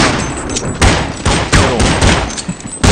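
Rapid gunfire bursts from the video game Counter-Strike 1.6, loud and close, several sharp volleys in quick succession with brief gaps between them.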